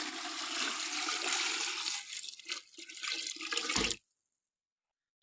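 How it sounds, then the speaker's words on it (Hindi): Water rushes and splashes loudly into a pressure cooker for about four seconds, then stops abruptly into silence. "ये मैं इसमें पानी शामिल कर रहा हूँ प्रेशर कुकर में"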